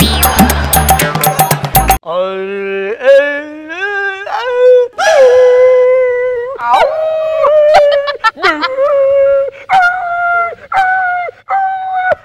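On the Jabardasth comedy stage, a performer imitates a dog with his voice, letting out a string of long, wavering howls and whimpers that rise and fall loudly, right after a short burst of loud music.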